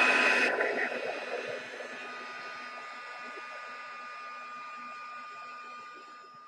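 A hair dryer blows steadily onto a mixed media envelope sprinkled with glitter, a loud broadband whoosh at first that settles into a quieter continuous hum with a faint tonal whine, fading slightly toward the end.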